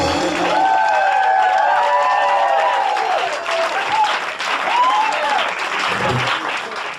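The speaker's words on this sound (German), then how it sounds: "Applaus, Applaus, Applaus." A concert crowd applauds loudly and steadily for seven seconds, with cheering whistles and shouts rising over the dense clapping.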